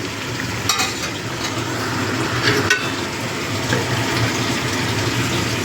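Tilapia fish curry with mustard paste simmers in a pan, giving a steady, fairly loud bubbling sizzle with occasional soft stirs and clinks throughout. No voices are heard.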